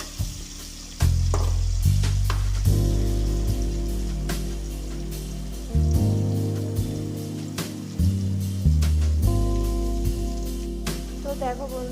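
Potato pieces with turmeric fry in hot oil in a wok, a loud, continuous close-up sizzle interrupted by repeated clanks and scrapes as they are stirred.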